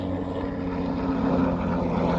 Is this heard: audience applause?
no